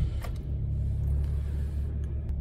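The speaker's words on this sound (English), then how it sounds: "Engine started with no issues and all good" A Suzuki car engine runs after key programming, a low steady idle rumble, fairly quiet and even, with no talk.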